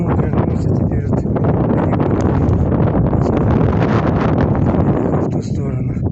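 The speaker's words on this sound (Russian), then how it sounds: "Ветер прямо в харю, а я шпарю." Strong mountain wind buffets the microphone in a loud, continuous roar with rumbling gusts while someone walks outdoors; no speech is evident.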